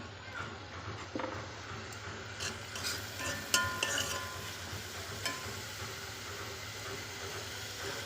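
Onions with ginger garlic paste cook in a pan for egg masala, making a soft, close sizzle with occasional clinks and scrapes of stirring and no voices.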